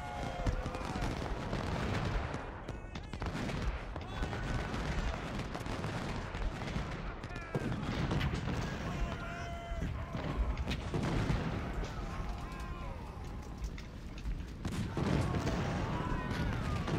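Cannon and rifle fire from an American Civil War battle at Crampton's Gap in the strategy game Ultimate General: Civil War, a dense, continuous din of booms and crackling volleys that carries on for the whole stretch.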